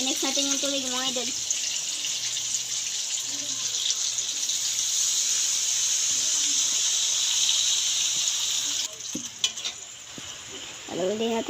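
Water poured into a hot cooking pan with tomatoes and salmon, a loud continuous sizzling hiss that eases near the end, with brief clatters and a short voice at start and finish.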